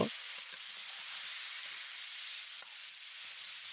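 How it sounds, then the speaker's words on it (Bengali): Potatoes with three green chilies fry in a pan, producing a steady, even sizzle with faint scattered pops, close and alone without voices. "আলুর ভিতরে এবার আমি তিনটে কাঁচা লঙ্কা দিয়ে দিলাম এটাকে ভালো করে ভেজে নিতে হবে"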